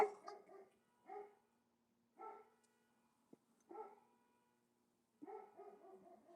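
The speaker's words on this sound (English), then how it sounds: "Grady is barking." Grady the dog barks indoors in short repeated bursts of a few yaps each, separated by pauses, moderately near and otherwise quiet.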